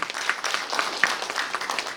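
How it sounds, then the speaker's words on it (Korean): Applause from an audience at an academic symposium, a steady dense patter of many hands clapping at moderate distance, filling the whole moment without any voices over it. "여러분들 박수 한번 쳐주십시오"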